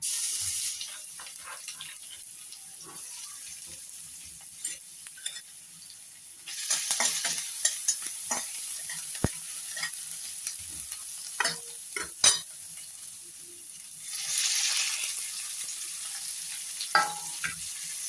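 Cumin, mustard seeds and garlic fry and pop in hot oil in a pan, a fine steady sizzle with sharp crackles and louder bursts as a utensil stirs them, close and with no voices.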